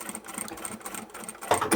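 A sewing machine triple-stitches over the seam of an unlined boxed bag made from upholstery fabric, a steady close whirring run that grows louder near the end.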